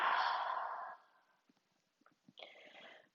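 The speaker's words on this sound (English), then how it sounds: "And exhale." A single long exhale during a yoga breathing exercise, a soft, airy sigh close to the microphone that fades out after a second, followed by quiet small breath noises and a brief shorter breath.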